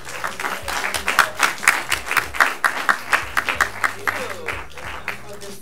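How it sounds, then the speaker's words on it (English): A theater audience at a film Q&A applauds warmly for a guest executive producer, with dense clapping and rhythmic accented claps rising and falling, plus some voices in the crowd. "let's all give a warm round of applause."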